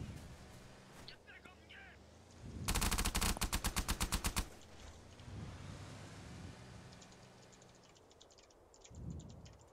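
Automatic gunfire in the online shooter SOCOM Combined Assault on the large Harvester map: one loud, rapid, evenly spaced burst of shots lasting nearly two seconds, with a player's voice and quieter game sounds before and after.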